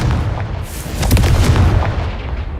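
Confringo fire spell detonating in Hogwarts Legacy, a loud booming blast with a rumbling low-end burst that swells and decays over a couple of seconds, with no voices.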